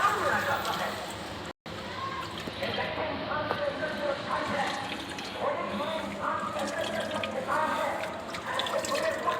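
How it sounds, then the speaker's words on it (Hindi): Water is poured into a container holding young aquarium fish at a Karachi fish-breeding setup, making a continuous splashing, trickling wash with a brief break near the start. "तो अब थोड़ा सा पानी हम इसमें ऐड करेंगे।"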